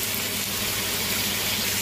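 Water poured into a hot cooking pan of sautéed smoked fish and aromatics for pinakbet makes a continuous loud hissing rush, steady with no break.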